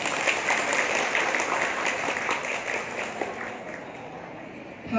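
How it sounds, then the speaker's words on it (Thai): Audience applause at a furniture store's second-branch grand opening, a steady wash of many hands clapping that carries on for several seconds at moderate distance and tapers slightly toward the end. "ขอเสียงปรบมือ"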